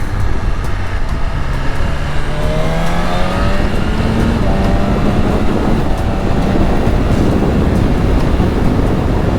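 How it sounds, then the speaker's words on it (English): A loud, steady engine drone with rising and falling tonal whine from a BMW S1000RR motorcycle revving and running close by, with no talking. "it reminds me of the sound of the engine"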